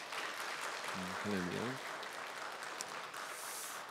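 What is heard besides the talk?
congregation applauding to encourage the choir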